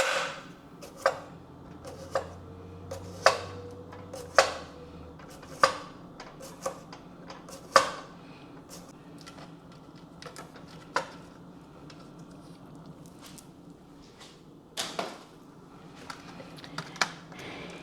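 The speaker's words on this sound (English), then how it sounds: "Then I'm going to dice up my cucumber." A knife dices cucumber on a cutting board, sharp wooden taps coming in an irregular run of single chops, close and fairly loud, with a brief pause before a few softer cuts near the end.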